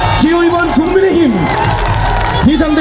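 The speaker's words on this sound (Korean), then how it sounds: "뜨거운 박수로 여러분 환영해 주시기 바랍니다" A crowd cheers at a political rally, loud sustained shouting and whooping with a voice over a loudspeaker rising above it, the massed noise continuing throughout.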